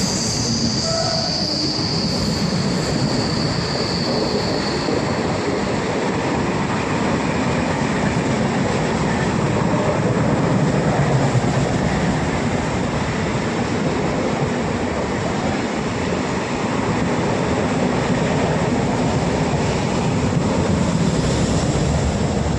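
The Mangala Lakshadweep express runs through Koratti Angadi railway station without stopping, a loud and steady roar of carriages and rolling wheels with a high squeal of wheels at the start.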